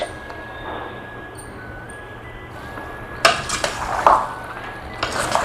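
Chicken pakodi pieces being mixed in a pan with turmeric, chilli and ginger-garlic paste. A steady low background gives way to scraping and clinking of a utensil against the pan, with a few louder knocks near the end.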